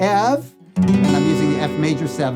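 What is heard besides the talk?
No distinct noise like a dog, phone or traffic.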